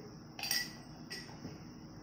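Raw peanuts are spooned into a cooking pan, giving a couple of faint, light clinks and rattles, the first a little sharper and the second softer, over quiet room background.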